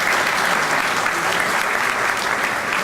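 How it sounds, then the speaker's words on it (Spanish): An audience at a formal anniversary session of an engineering association gives dense, continuous applause, loud and uniform from start to finish. "Un aplauso por él."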